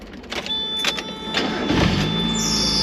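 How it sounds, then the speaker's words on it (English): A 1995 Mazda Miata M-Edition cranks and its engine starts up, a short whirring crank building into a steady running idle, heard close by without talking. "Car's topped off, so it's time to start her up now."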